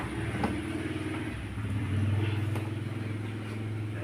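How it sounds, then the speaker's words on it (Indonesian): A car engine starts up with the gearbox in neutral and settles into a steady low idle rumble, mechanical clatter running under it throughout, close and continuous with no talking. "kita sekarang akan menghidupkan mesinnya ya, untuk melihat kinerja dari si mesin ini"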